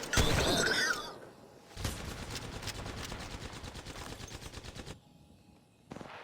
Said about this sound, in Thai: กำลังยิงต่อสู้เป้าหมายอยู่ที่ด้านหน้าของฉัน